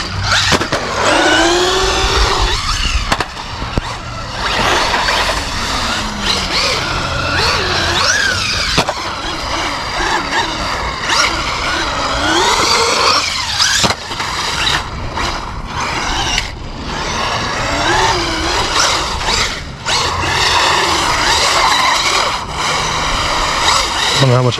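Traxxas Mini Maxx RC truck with sledgehammer tires racing around a skate park, its whining electric motor rising and falling in pitch throughout, with someone talking over it.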